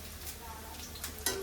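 Sliced onions frying in a pan as chilies are stirred in, giving a steady soft sizzle with light stirring scrapes and a sharp metallic clink near the end.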